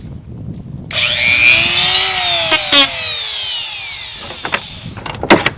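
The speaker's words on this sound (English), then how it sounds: "I'm going to take my Dremel tool and just kind of open this hole up just a little better" A Dremel rotary tool widens a scupper plug hole in a plastic Bass Raider 10E kayak, a loud high-pitched whine that sags and rises in pitch as it bites, then stops, followed by scattered clicks and knocks.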